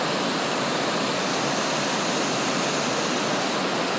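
A waterfall pours over rocks on the Black River, a loud, dense and unbroken rush of water heard alone throughout.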